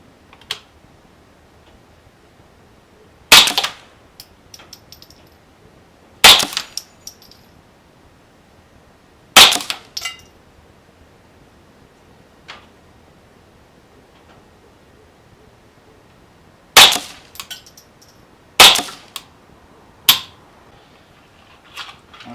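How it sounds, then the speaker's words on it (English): CCI Standard Velocity .22 rounds are fired from a Ruger 10/22 rifle, five sharp, short cracks spaced a few seconds apart against quiet background, with a few fainter clicks between. "CCI Standard Velocity Ruger 1022."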